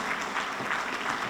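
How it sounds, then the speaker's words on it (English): Steady applause fills a police department's annual awards ceremony, a dense, continuous clapping from the audience that holds at an even level throughout without pauses or voices. "Detective Omar Longoria, keep the applause going, that's right, Detective Esteban Salinas,"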